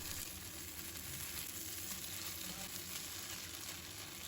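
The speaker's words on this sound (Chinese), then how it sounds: "我全程都是小火在煎好" Pumpkin sizzles gently in a pan over low heat, a steady, even crackle of frying heard close up with no talking.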